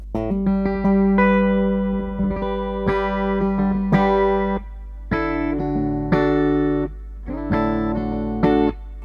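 A clean electric guitar tone with amp reverb rings out in strummed chords and picked notes, loud and close, each phrase decaying into a reverberant tail with brief gaps between.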